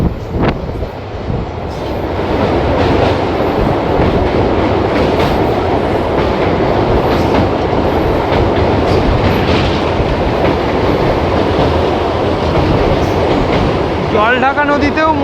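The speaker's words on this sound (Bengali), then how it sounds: "আমাদের ট্রেন এবার জলঢাকা নদী পার করছে।" A passenger train on the Siliguri–Bamanhat InterCity Express crosses the Jaldhaka river, its loud steady rumble and rattling wheels roaring close by throughout, with wind buffeting and a voice briefly at the end.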